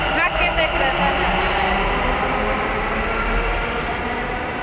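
A metro train rumbles past near a metro station, a loud continuous rolling roar with a deep low hum that eases slightly toward the end, with voices faintly mixed in.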